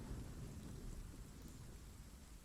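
Rain falls steadily in The Pillars of the Earth video game, with a deep rumble of thunder underneath. The storm is quiet and continuous, and no voices are heard.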